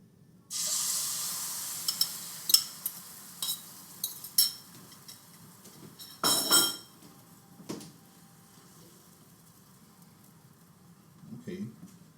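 Eggs and onions fry in a carbon steel pan for a hangover omelette, a burst of sizzling hiss at first, then scattered spatula clinks and scrapes with brief sizzle flares over a low, quiet hum.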